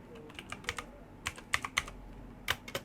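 Keys on a computer keyboard clatter in quick, irregular bursts of close, crisp clicks with short pauses between them, no talking.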